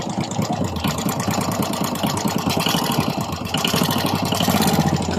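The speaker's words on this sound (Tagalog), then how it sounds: "parinig ko muna sa kanyo ang tunog ng kanyang makina nang hindi natin siya nabaklas" Suzuki Smash 115 motorcycle engine idling steadily with its muffler removed, a loud, rough, continuous running sound with rapid ticking pulses; the engine is noisy with a knocking rattle and burns oil.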